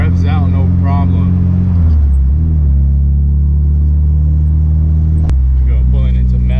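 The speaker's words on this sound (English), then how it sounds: "with the lightweight flywheel, this thing just revs out no problem" A Honda EG hatchback with an H2B engine and lightweight flywheel drones loudly from inside the cabin, pitch shifting as it revs and settles between gears, with someone talking over the engine throughout.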